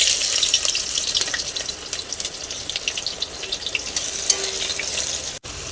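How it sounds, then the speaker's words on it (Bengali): Chopped onion and green chilli hit hot oil in a pan for home-style chow mein, a loud close sizzle that settles into steady crackling frying with a few stirring scrapes. "তেলটা গরম হয়ে গেছে, এখন আমি কেটে রাখা পেঁয়াজ লঙ্কা দিয়ে দেবো।"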